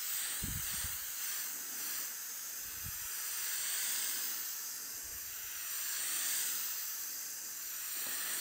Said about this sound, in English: Give it a good coat of the 3M Super 77. It's a kind of like a contact adhesive.